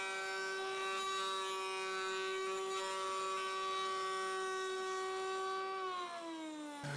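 A router table spins its bit at a high, steady whine, loud and continuous, while a board is shaped into a dowel, then the pitch drops as the motor winds down near the end; no talking.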